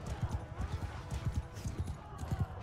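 Horses gallop in Mount & Blade II: Bannerlord, a dense, fast drumming of many hooves close by, with battle noise layered over it.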